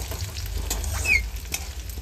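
Onion and fenugreek tempering sizzling in hot oil in a kadhai, a steady close frying hiss with light stirring scrapes and no talk.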